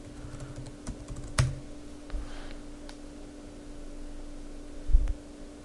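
Password keystrokes on a computer keyboard, a few scattered clicks with a sharper tap near the start and another near the end, quiet and close over a steady electrical hum.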